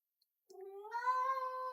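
A needy house cat meows once, a clear drawn-out harmonic cry rising after a short silence and holding close and loud to the end.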